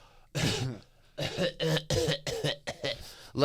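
A voice imitating a small child's coughing, a series of harsh open-mouthed coughs and throat-clearing bursts in quick succession.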